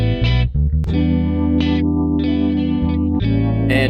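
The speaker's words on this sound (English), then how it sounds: "Little organ." A little organ part added to an unmixed lo-fi beat, sustained chords with short bright stabs over them, wobbly chorus-like tone, loud and without voices.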